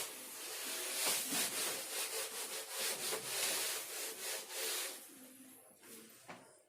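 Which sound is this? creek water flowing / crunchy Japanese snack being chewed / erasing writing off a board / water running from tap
erasing writing off a board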